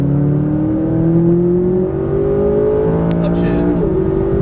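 A McLaren 570S sports car accelerates at full power, its engine note rising steadily in a loud close drone that dips briefly as a shift hits near the end; a person talks throughout.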